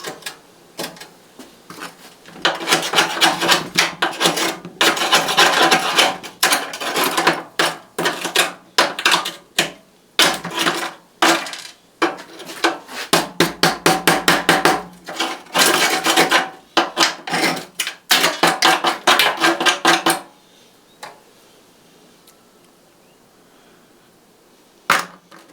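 An angle grinder and drill work on a car's running boards, grinding off spot welds and drilling out pinch welds in loud, harsh, rasping bursts for about twenty seconds before things go quiet.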